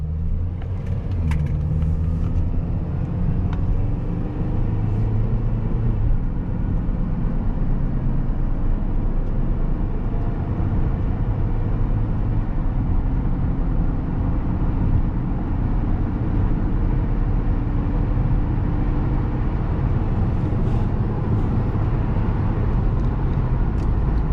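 A 2011 Honda Accord EX-L with a 2.4 liter, 177 horsepower engine and 200,000 miles accelerates on the highway, a steady, loud cabin rumble of engine and road noise that holds constant throughout.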